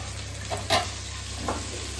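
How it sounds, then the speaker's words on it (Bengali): Pointed gourd and potatoes with turmeric and salt fry in a pan, heard as a soft steady sizzle with a couple of brief stirring scrapes, close by and without speech. "সঙ্গে হলুদ আর লবণ দিয়ে পটলগুলো আর আলুগুলো ভেজে নেবো"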